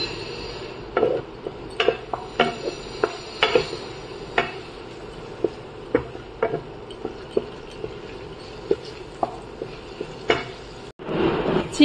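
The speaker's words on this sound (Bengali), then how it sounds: "ভালো করে একটু নাড়িয়ে চাড়িয়ে নিয়ে আবার চাপা দিয়ে দেবো চিকেনটা সিদ্ধ হওয়ার জন্য।" Chicken being stirred in a cooking pan, a spoon clinking and scraping against the metal in irregular taps and knocks over a low background hiss, ending with a louder clatter as a lid goes back on.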